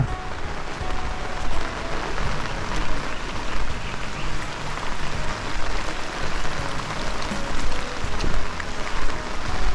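Heavy storm rain pours steadily over a rural village, a dense continuous hiss of falling water without pauses or voices.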